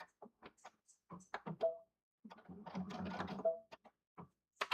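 A sewing machine runs a short back stitch while a zipper is sewn on, its motor buzzing steadily for about a second and a half between brief pauses and scattered clicks of fabric handling, close and moderately loud.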